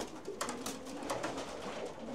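A pigeon kept by a breeder of elite racing pigeons coos softly nearby, a few low throaty rolling calls in a short rhythmic series, faint and with no voices over it.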